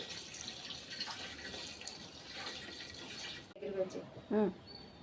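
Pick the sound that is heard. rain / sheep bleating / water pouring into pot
water pouring into pot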